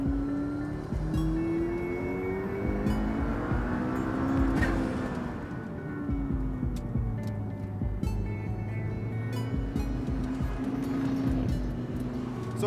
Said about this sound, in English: This is the P1 on a track.